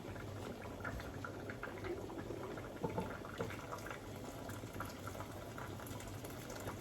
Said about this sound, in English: let me add a little bit more water to it